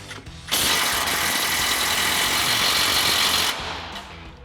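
An 18mm socket on a power tool spins off a strut nut on a 2004-2025 Ford F-150 during a leveling lift install, giving one steady, loud, harsh mechanical whirring burst of about three seconds close by, with quieter clatter before and after.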